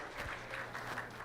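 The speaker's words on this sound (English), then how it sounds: "Round of applause, everybody." Fairly faint audience applause at a school competition stage event, a brief patter of clapping heard from a distance.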